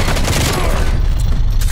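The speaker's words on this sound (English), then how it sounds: "Artillery inbound." Artillery strike in Call of Duty Black Ops Cold War, a loud dense barrage of rumbling impacts crashing together at close range.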